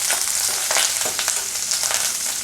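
Green chilli, curry leaves and sliced onion sautéing in hot oil for murungakkai sambar, a loud, steady close-up sizzle with bursts of crackle as the pan is stirred, no voices.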